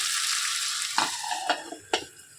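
Sliced potatoes cooking in a pan after five minutes under a lid give a steady, close sizzle that gradually thins out, punctuated by a few sharp clinks of metal. No speech.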